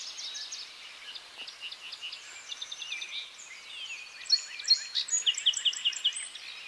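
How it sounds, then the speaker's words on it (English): Birds sing in Pennsylvania woods during the early muzzleloader deer season, with faint, distant chirps and trills that become louder and busier toward the end. "the birds singing."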